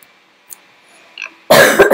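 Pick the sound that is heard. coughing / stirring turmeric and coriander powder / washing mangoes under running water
coughing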